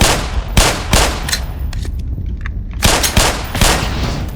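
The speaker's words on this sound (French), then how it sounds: "le coup direct de la grenade" Grenade blast in the shooter game Black Mesa, a Half-Life remake, with loud sharp bursts in quick succession, then a short lull and more booms near the end.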